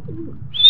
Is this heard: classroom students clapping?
no